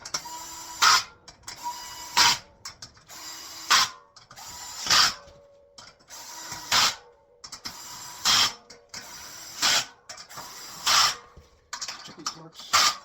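A powered torque tool tightens bolts on a server rack during assembly, with repeated loud whirring bursts at steady intervals, each followed by a short pause.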